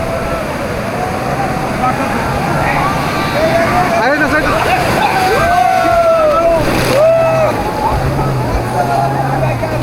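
Big ocean waves break and wash at Cox's Bazar beach, a loud continuous roar of surf and splashing, with crowd voices and nearby talk over the top.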